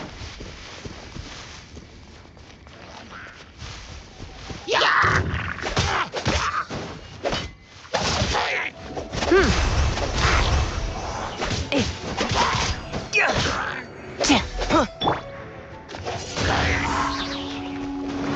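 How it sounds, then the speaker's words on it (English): Battle effects from the video game Genshin Impact, with a dense run of whooshes, thuds and impact hits that grows busier and louder after a quieter start. "It sounds like there's a battle going on."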